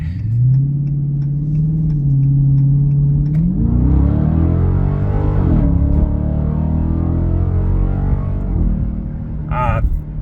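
A 2022 Dodge Charger Scat Pack with an AWE Track Edition exhaust idles with a low rumble, then revs up and holds a deep drone before settling; loud and close, with a voice briefly over it.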